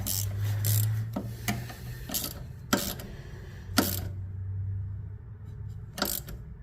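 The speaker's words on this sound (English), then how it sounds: "I'm just using a small ratchet here" A small hand ratchet tightens a rear brake line on a first-generation Scion xB, making short bursts of quick metallic clicking at irregular intervals, fairly close but soft, with quiet gaps between turns.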